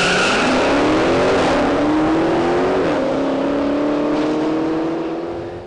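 A loud Dodge Challenger Hellcat engine revs hard on a race track, pitch climbing through gear changes with a throaty roar before easing off at the end.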